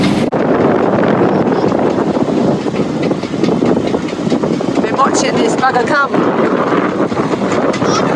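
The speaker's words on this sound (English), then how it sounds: "your rigging starts going noisy rigging, screaming rigging" Wind roars loudly and unbroken through a sailboat's rigging during a storm at sea, a dense rushing noise close to the microphone, while someone speaks over it.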